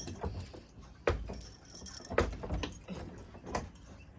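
Keys jangle and clink in bursts as a house door is locked, with several sharp metallic rattles close by and no speech.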